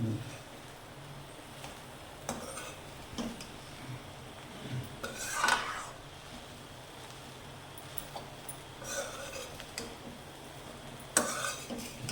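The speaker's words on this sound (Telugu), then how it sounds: "అటుకులు మంచిగా కలవాలి. కలిసేటట్టు మంచిగా కలుపుకోవాలి." Flattened rice (poha) being stirred in a pan for aloo poha, giving soft scraping and rubbing with occasional light clicks of a spoon against the metal, fairly quiet and steady with no talking.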